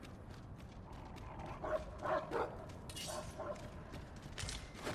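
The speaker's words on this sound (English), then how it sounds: "Stupid freaking dog." A dog in Dragon's Dogma 2 gives a few quiet, scattered barks and yips over a low ambient game background, distant and faint rather than up close.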